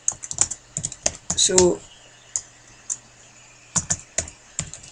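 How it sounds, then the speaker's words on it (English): A computer keyboard clicks with sharp, irregular keystrokes as a command is typed for a Minecraft WorldEdit overlay, close and crisp, with a brief spoken word near the start. "you are going to type /, overlay"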